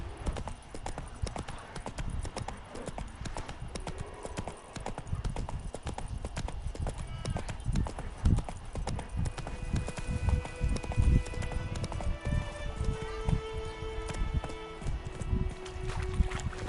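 Horse hooves clip-clop steadily in The Witcher 3 video game, a continuous rhythmic trot over game music and ambience, with occasional faint voice.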